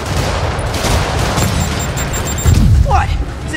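Rocket explosions boom in a Marvel's Spider-Man video game battle, a rumbling run of blasts with a heavier burst near the end, while a voice talks over the action.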